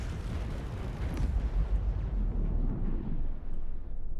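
Missile explosions in the space combat game Fractured Space: heavy, rumbling blasts that roll on continuously for a few seconds, deep and booming, with no voices over them.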